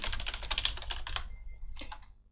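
Typing on a computer keyboard while entering a word into a text editor, a quick burst of close, crisp key clicks with short pauses and a couple of final taps.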